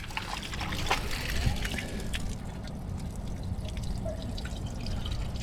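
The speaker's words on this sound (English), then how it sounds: "Should start getting water coming out from our pee hole, and there it comes." Water dribbling and dripping from the telltale outlet of a boat's outboard motor, a steady trickle heard close by over a continuous low engine rumble.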